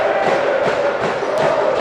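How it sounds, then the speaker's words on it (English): Steady roar of a basketball crowd at the Thomson Trophy final, a continuous mass of voices and cheering with no distinct peaks, fairly loud throughout. "the Shirley crowd starting to come to life now"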